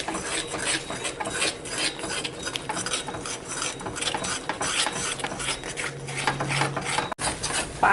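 Red chilli paste is stirred and scraped in an iron pan, a steady run of close rasping, scratching strokes with a brief clink near the end.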